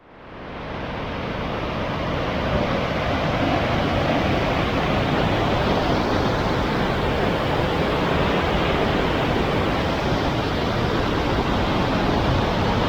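Rushing water from waterfalls in Macedonia makes a loud, steady roar that swells in at the start and then holds constant and close, with no voices.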